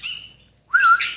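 Hand-fed white-cheeked and hazar bulbul chicks give two loud, close chirping bursts separated by a short silence, one high and thin, the second fuller and wavering, with no voices.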